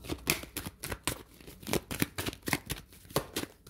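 Tarot cards shuffled by hand, a rapid series of crisp riffling and flicking bursts at an uneven rhythm, close and clear with no voice over them.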